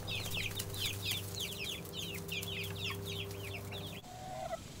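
A flock of backyard chickens clucks and chatters repeatedly at close range while pecking at black soldier fly larvae, with a steady low hum underneath and the sound shifting abruptly near the end.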